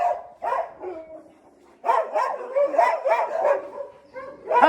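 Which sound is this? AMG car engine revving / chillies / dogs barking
dogs barking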